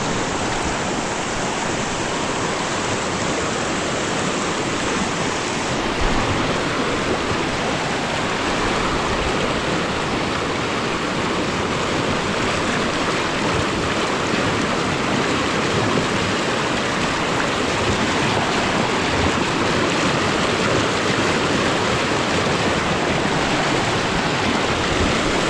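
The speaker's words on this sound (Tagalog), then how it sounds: "lakas ang bugso ng tubig" Strong surge of a rushing river after rain, flowing over rocks, a loud unbroken roar of churning water held steady at close range for the full length with no voices.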